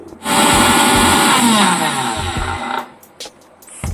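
A kitchen mixer-grinder coarsely grinds soaked black-eyed peas, a loud, close motor whir that runs steadily for about two and a half seconds, then stops, followed by a few brief knocks and bursts.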